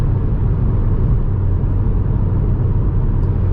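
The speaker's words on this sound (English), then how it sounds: "So I can hear some tire noises, maybe a little bit wind from the side of the mirrors" Steady loud roar of tires on pavement with a broad wind rush around the mirrors of a 2020 Mazda CX-30 SkyActiv-X 180 HP at speed, constant and unbroken throughout, no voices.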